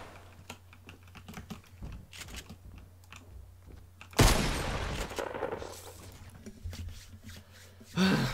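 Keyboard clicks from someone playing Fortnite on an Xbox console with a keyboard and mouse, a quick irregular clatter of keys, then cut off by a loud sustained burst of gunfire.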